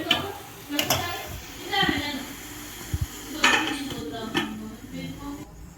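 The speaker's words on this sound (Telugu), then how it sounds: "పీసులు ఇట్లా ఖరాబ్ కాకుండా కలపాలి మెల్లగా. కొంచెం ఫ్రై కావాలి." Fish pieces being gently stirred in a frying pan, with scattered metal clinks and scrapes of the utensil against the pan over a low background sizzle.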